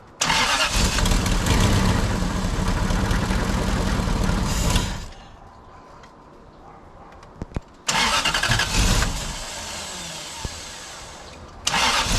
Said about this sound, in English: just sounds like it does not want to idle